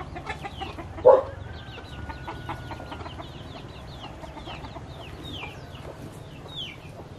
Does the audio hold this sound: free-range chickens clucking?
yes